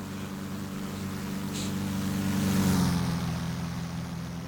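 Beechcraft Bonanza F33A propeller plane climbing in flight over the Allegheny Mountains, a steady droning engine and propeller hum heard from the cabin, slightly rising in loudness midway, with no talk.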